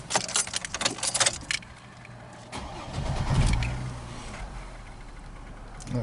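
A Chevy Trailblazer starting up: keys jangle and click in the ignition, then the engine cranks briefly, catches with a rising roar and settles into a steady idle, close and clear with no talking.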